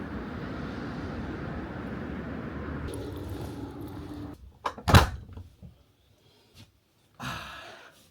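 A door is shut indoors at home: one close, solid thud with a short rattle, following steady broadband background noise, then near silence and a faint shuffle.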